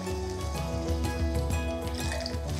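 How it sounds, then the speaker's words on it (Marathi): Water pours steadily into washed lentils and rice for soaking, a continuous running splash heard beneath soft background music in a home kitchen. "इथे डाळ तांदूळ एकत्र स्वच्छ धुवून घेतले की यामध्ये पुरेसं पाणी घालायचं"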